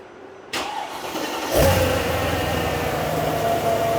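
A Mercedes E55 AMG wagon engine, running speed density with the intake tubes removed and a flex fuel module fitted, cranks briefly, catches with a loud burst and settles into a steady, close idle, with no talk.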